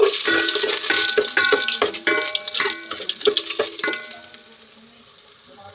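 Garlic hits hot oil in a pan and crackles loudly with stirring clinks, bursting strongly at first and then fading to a softer sizzle over the last couple of seconds.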